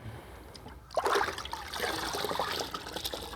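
A towel soaked in Optimum No Rinse solution wrung out by hand, liquid trickling and dripping close by after a quiet start, a wet splashing patter that continues to the end.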